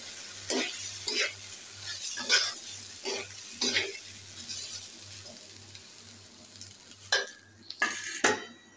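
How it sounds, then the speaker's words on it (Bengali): Rice frying in a wok with a constant soft sizzle and a rhythmic series of scraping stirs about every second, close by, followed near the end by a few sharper clanks of the spoon against the metal. "চাউলগুলো ভেজে নিই"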